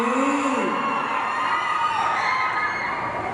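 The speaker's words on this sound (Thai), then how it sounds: "ขอเสียงกรี๊ดอีกที" A large crowd of fans screams and cheers continuously at Kim Sejeong's fan meeting in Thailand, a dense, loud wall of shrieking voices.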